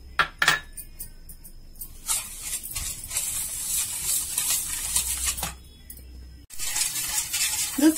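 Curd, milk and sugar stirred together in a bowl for a honey cake, giving soft scraping and clinking strokes at close range, irregular and fairly quiet, with brief pauses between bursts.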